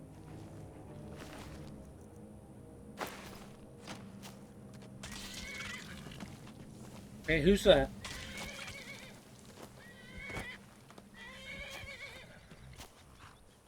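A horse in Skyrim gives one sharp, loud neigh at close range partway through, with hoof clops and game ambience around it and a person talking over parts of it.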